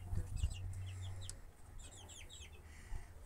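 Young chicks cheep softly in quick clustered bursts, faint and close, with a low background hum underneath.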